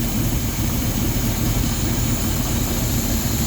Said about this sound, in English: Engine's starting to gurgle.